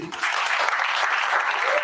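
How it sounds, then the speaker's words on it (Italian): A hall audience gives warm, sustained applause to the Giuseppe Verdi music association, dense clapping rising quickly and holding steady and loud throughout. "voglio ringraziare con un calorosissimo applauso l'Associazione Musicale Giuseppe Verdi"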